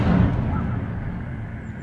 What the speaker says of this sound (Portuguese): a explosão que teve no meio do caminho ali não me pareceu defesa, não